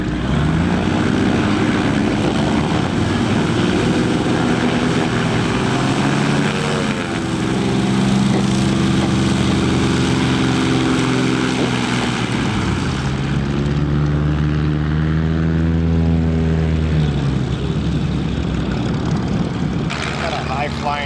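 A seaplane's propeller engine drones loudly over a lake, holding a steady buzzing roar as the aircraft turns back toward its base to land into the wind, with the pitch shifting slightly as it banks.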